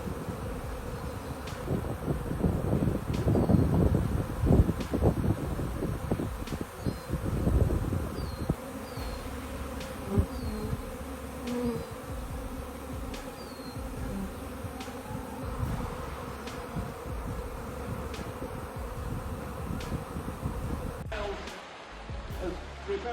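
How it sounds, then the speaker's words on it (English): A swarm of bees circles above a home in Salt Lake City, making a continuous, dense buzzing hum that rises and falls over about twenty seconds, with rustling noise and faint background voices mixed in. "a swarm of bees spins like a flying"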